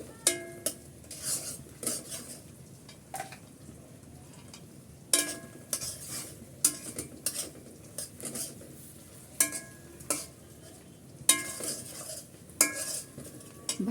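Garam masala spices fry in oil in a pan, a quiet low sizzle under repeated sharp scrapes and clinks of a metal spoon stirring against the pot in irregular bursts.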